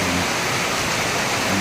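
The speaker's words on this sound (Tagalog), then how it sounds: "Tuloy-tuloy ang ulan at saka hangin." Heavy rain driven by strong wind during a storm with flooding, a steady, loud, unbroken roar of downpour that fills the whole clip.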